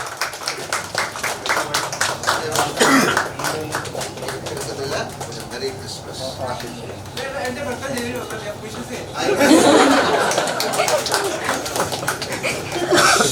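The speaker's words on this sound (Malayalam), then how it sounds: "സോ ഓഡിയൻസ് നല്ലൊരു കയ്യടി കൊടുക്കാം" Audience applause at a cake-cutting with actor Mohanlal and his blind fan Vishnu: sustained crowd clapping mixed with voices, swelling louder toward the end.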